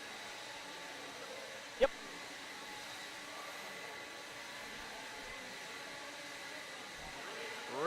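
A blower runs at an RC car race track, a steady, moderately loud rushing hiss over the whole stretch, with a sharp click early on and a brief spoken word.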